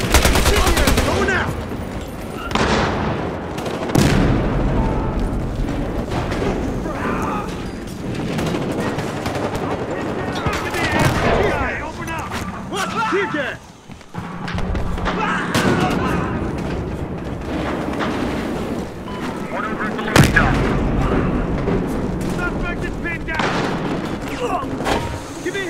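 Battlefield Hardline match gunfire, dense bursts of automatic and single shots with occasional heavier booms, loud and nearly continuous, with voices calling out over the shooting.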